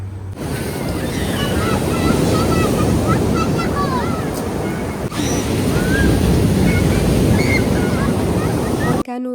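Sea waves wash onto the Syrian coast with a constant roar of surf, and wind buffets the microphone. Faint voices sit in the distance beneath the rush.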